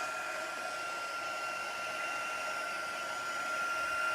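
A heat embossing tool blows hot air over cardstock in a steady, even whooshing hum that holds for several seconds, close by with no talk.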